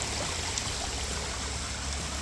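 Water from a renovated garden water feature trickling onto rock in shallow water, a steady, close, bright splashing that runs without pause.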